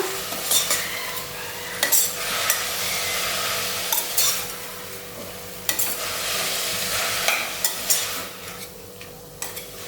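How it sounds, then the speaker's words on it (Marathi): Sprouted moong beans and vegetables stir-fried in a pan, a steady sizzle under repeated scraping and clanking strokes of a spatula against the metal, close and moderately loud. "मोड आलेले मूग सुद्धा घालणार आहोत यात व्यवस्थित मिक्स करून घेऊया"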